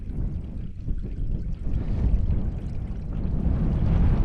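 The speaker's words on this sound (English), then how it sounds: "Just found a water source" Stream water trickles and gurgles steadily into a bottle on a solo hike along the Beacons Way, a close, continuous burbling that grows slightly louder as the bottle fills, with no talking.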